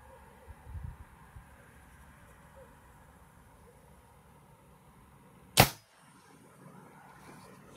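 A single sharp crack from a Gen 2 Reximex Throne 4.5mm PCP air rifle firing at a 200-metre target outdoors, a short loud snap standing out over quiet background.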